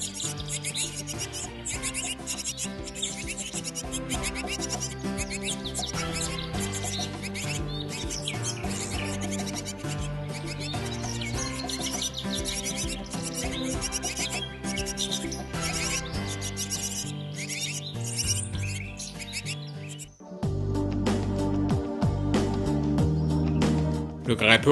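Nestling birds beg for food, a busy chorus of high chirps and peeps overlapping under a narrator's voice, with the calling growing louder and more insistent near the end.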